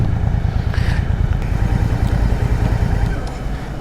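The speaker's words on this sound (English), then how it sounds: "Good to see some bikes on today. The bikes are out." Motorcycles pass on a busy road at night, a steady loud low engine rumble holding throughout with a brief rise in the middle, close by and without talk.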